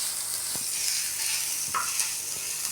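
Onions sauté in a pan for adai batter, a steady close sizzle with a few faint stirring clinks, no talk.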